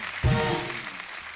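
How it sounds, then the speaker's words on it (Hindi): A studio audience at a comedy talk show breaks into applause after a brief pause, a loud burst that swells at once and then slowly tapers off. "एक बार जोरदार तालियां हो जाए हमारे मेहमानों के लिए।"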